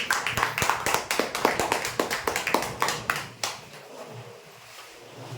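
An audience at a prize draw applauds with quick, loud rhythmic claps that fade out after about three and a half seconds, leaving quiet room noise.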